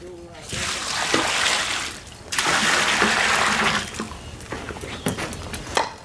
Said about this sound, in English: they'll mix and add water as needed